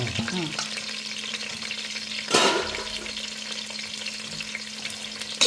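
Onion frying in a home kitchen pan for pulao, a steady close sizzle with stirring scrapes and a brief louder burst of hiss partway through.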